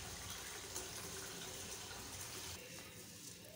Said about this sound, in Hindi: हाँ जी, ये चावल मैंने डाल दिए